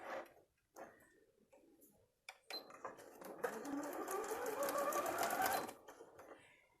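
A sewing machine stitches patchwork blocks, starting with a few short bursts and soft clicks before running in a loud, fast, steady whir for a couple of seconds, then slowing to a stop.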